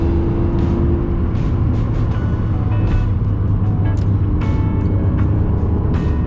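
A Toyota MR2 sports car of roughly 160 horsepower and 2,500 pounds drives along with a steady, close engine drone, overlaid by scattered light clicks and rattles.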